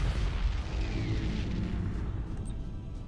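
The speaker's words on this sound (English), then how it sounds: "There's that front cannon I just fired." A front-mounted cannon fires in the space-fleet strategy game Battlefleet Gothic Armada, a loud, heavy boom with a deep rumbling tail that fades gradually over a few seconds.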